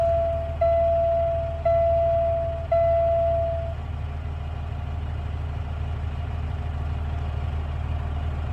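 A dump truck that won't crank puts out a steady low rumble while a high electronic warning tone beeps three times in the first few seconds, then stops. No one speaks.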